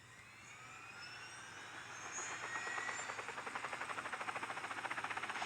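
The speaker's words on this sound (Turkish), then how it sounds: "Evet helikopter helikopter." Video game helicopter rotor chop builds steadily from a distant engine whine into a fast, close, rhythmic thudding that grows louder toward the end.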